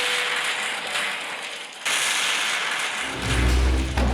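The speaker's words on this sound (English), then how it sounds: "An explosion happened, followed by another one." Loud explosion in a dramatic fantasy narration: a sharp blast, then a rushing crackling roar, with a second deep booming burst near the end.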